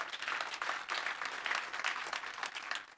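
Congregation applause at a church prayer service, a steady dense wash of many hands clapping, loud and sustained throughout without a break.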